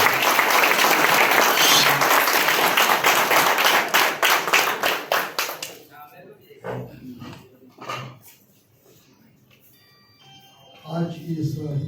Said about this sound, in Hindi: आप लोगों से गुजारिश है उनका स्वागत जोरदार ताली बजा कीजिए।